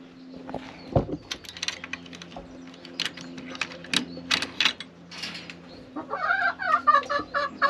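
Hens cluck in a hen house, with short clucks and scratchy movement sounds scattered across the clip and a louder run of clucking toward the end, fairly close with no voices.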